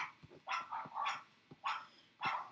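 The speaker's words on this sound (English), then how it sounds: "they're barking because somebody's walking their dog by them." Several barks come in uneven bursts, some doubled, from dogs a little way off reacting to a passerby walking a dog, with softer yips and quiet stretches in between.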